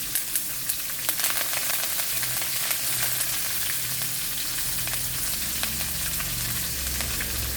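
Onions and curry leaves frying in hot oil produce a dense, continuous crackling sizzle, close and steady throughout with a few louder pops.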